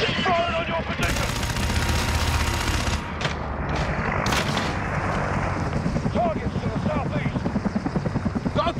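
Combat in the video game Call of Duty Modern Warfare: a helicopter's rotor chop throbs steadily under dense gunfire and heavy explosive blasts, with shouted voices mixed into the loud, continuous battle.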